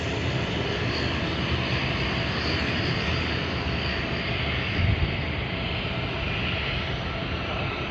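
A De Havilland Dash 8 Q400 turboprop at Sydney Airport, heard as a steady, fairly loud engine roar and broadband rumble that holds evenly from start to finish, with no voices.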